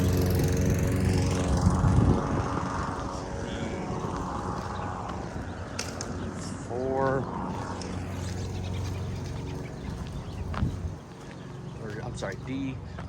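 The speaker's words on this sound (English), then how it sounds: "here's a nice lady working outside doing some mowing" A lawn mower runs at a campground as someone mows outside, its steady droning motor filling the background under continuous nearby talk.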